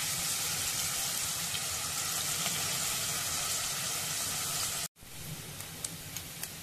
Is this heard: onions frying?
yes